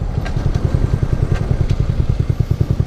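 A small Boom Vader motorcycle, a Grom clone, runs with a steady rapid engine putter close by, its low pulsing exhaust beats evenly spaced and loud, with occasional light clatter on top.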